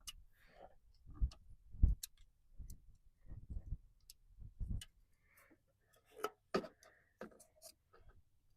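A small screwdriver loosens a screw on a cold air intake on a 2015–2020 Escalade, Tahoe or Yukon with a 5.3 or 6.2 engine, giving quiet, close, irregular ticks and clicks separated by short gaps.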